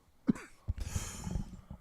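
A man breaks into a coughing fit, giving a sharp close cough followed by a couple more rough coughs and throat-clearing sounds, fairly quiet and isolated.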